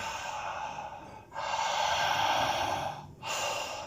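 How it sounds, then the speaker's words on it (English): Deep, intensified breathing during breath work: long, loud, airy inhales and exhales close to the mic, with brief pauses between breaths and no talking. "Staying with my breathing."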